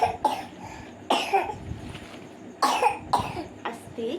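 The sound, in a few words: child coughing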